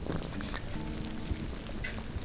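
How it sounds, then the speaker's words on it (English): A dense, constant fizzing patter of tiny CO2 bubbles escaping from a fermentation vat, close and even, with occasional slightly louder pops. "sound of escaping CO2 bubbles coming from the vat"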